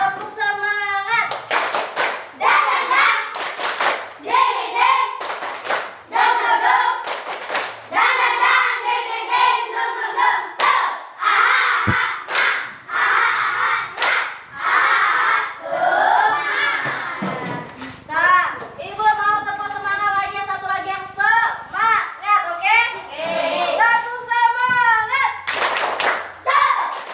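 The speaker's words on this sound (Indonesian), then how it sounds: "Tepuk semangat." A class of children performs a rhythmic spirit clap (tepuk semangat), with patterned bursts of hand claps mixed with their chanting and singing voices, lively and close throughout.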